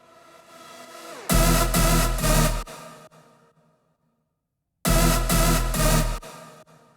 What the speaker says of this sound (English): These leads are like really 90s rave inspired.